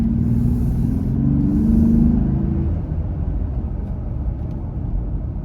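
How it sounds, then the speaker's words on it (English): A Jeep Gladiator fitted with a cold air intake drives slowly around a parking lot, its low engine rumble swelling as the throttle opens for about two seconds, then settling back to a steady, subdued idle-like drone. "let you hear what it sounds like as I get on and off the gas during normal slower driving"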